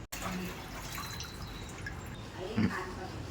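Tamarind being washed by hand in water, giving soft splashing and dripping close by, with a brief louder slosh near the end over faint background noise.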